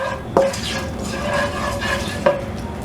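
Whole garam masala spices fry in hot cooking oil for an egg korma, giving a steady close sizzle with two sharp utensil clinks against the pan.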